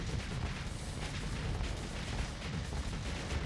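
Torpedo impacts against a ship's shields in Starsector, heard as a dense, continuous rumble of muffled booms and bursts, moderately loud and unbroken, with no one speaking.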